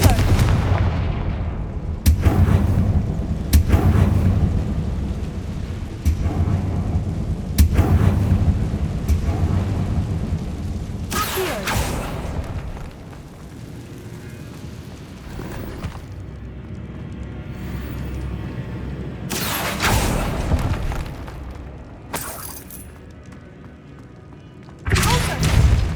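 Confringo blasting spell explosions in Hogwarts Legacy, a series of loud booming blasts spaced a few seconds apart over a continuous rumbling game backdrop, with clusters of sharp bursts near the end.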